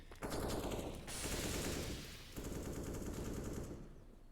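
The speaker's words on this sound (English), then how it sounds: "shots coming through on Banana. Cool Comms also taking some shots here." Gunfire in a competitive Counter-Strike match, rapid automatic bursts and overlapping shots in two dense volleys separated by a short lull, loud and sustained with no talking.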